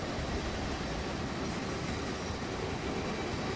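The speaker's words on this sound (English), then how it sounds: "That is what a freight car should sound like. That rolling stock sound should be on everything in Train Simulator Classic." Rolling stock of an American freight car in Train Simulator Classic, hauled by a Pere Marquette N-1 2-8-4 Berkshire steam locomotive, a steady low rumble and rattle of wheels on rails, continuous and even with no talk.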